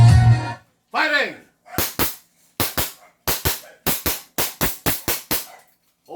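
An AW Custom 1911 3.8 airsoft pistol fires about a dozen sharp, loud, close pops in quick pairs and short bursts, right after a brief spoken line.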